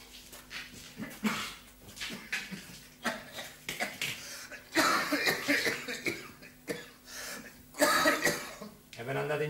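Dry coughs and throat clearing from a man with a persistent cough in an Italian period drama, recurring in short bursts among speaking voices.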